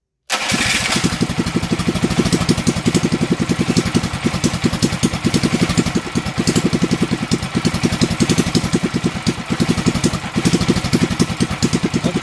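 A Predator 212 mini bike engine fitted with a racing flywheel starts abruptly and settles into a loud, fast, steady idle with an even rapid pulsing thump, close up.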